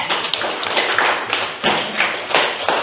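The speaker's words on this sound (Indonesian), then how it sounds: "Tepuk tangan buat Adinda." Children in a classroom clapping for a classmate, bursts of loud, close hand claps in uneven rhythmic surges over a few seconds.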